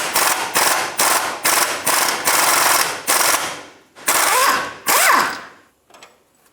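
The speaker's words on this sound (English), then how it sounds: "Using a 19mm socket," A socket ratchet loosens a steering rack bolt on a 2000–2006 Toyota Tundra: rapid clicking bursts come in repeated strokes, close and loud, with a short gap and a faint metallic rattle at the end.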